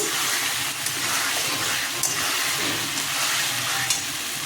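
Potatoes added to a hot pan with salt and spices ground into a paste with water give a loud, continuous sizzle and hiss. Occasional stirring scrapes punctuate it, close up, with no voices.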